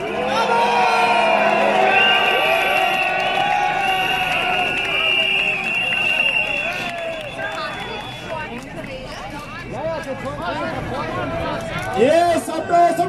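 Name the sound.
crowd applauding and cheering for the police at a demonstration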